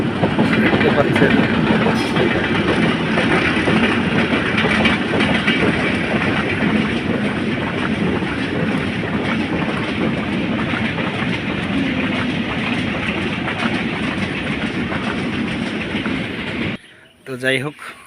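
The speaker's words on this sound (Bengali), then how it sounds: "আপনাদেরকে এখন রেল দেখাবো" A train rumbles past close by with steady clattering wheels for most of the stretch, then cuts off near the end, with talk around it.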